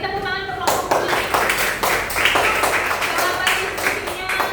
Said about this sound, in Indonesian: Oke, beri tepuk tangan untuk kelompok Upin Ipin.